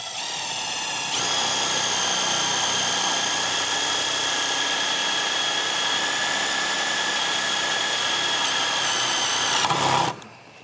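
A Milwaukee Shockwave pilot-point bit drills into half-inch thick steel with a loud, steady high-pitched whine and grinding that runs for about nine seconds before cutting off abruptly.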